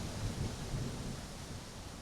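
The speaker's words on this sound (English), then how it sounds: "I'm just going to hate when I hear the rain" Steady rain in the Grand Tactician strategy game, a dense continuous hiss with low rumbling underneath, even and unbroken throughout.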